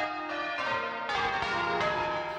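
A single church bell of fairly light weight, rung in a belfry, strikes several times in steady succession, each clear ringing tone overlapping the last's decay.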